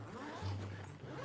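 A zipper slides open on a Solgaard suitcase, a short continuous rasp heard close up.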